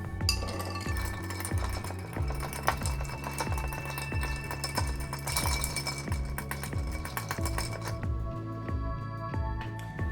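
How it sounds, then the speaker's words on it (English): Ice clinks and rattles steadily in a mixing glass as a Martinez cocktail is stirred, a fast regular tinkling rhythm running close and clear throughout with no talking. "And then we're gonna go ahead and give that a stir."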